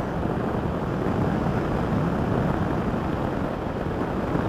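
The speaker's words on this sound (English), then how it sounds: "So the engine, silky smooth delivery, it's got enough power throughout." A BMW R1200RS touring motorcycle engine runs steadily under way in 5th gear, a dense, continuous drone mixed with rushing wind, constant in level throughout with no voices.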